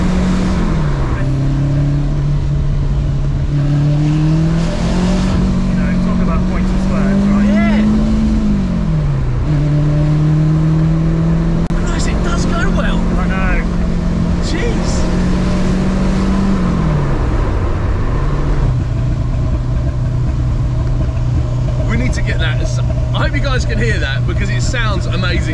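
A turbocharged Renault 5 Turbo 2 engine climbs in pitch as it accelerates with turbo lag, dips at gear changes, then pulls steadily again, with people talking over it.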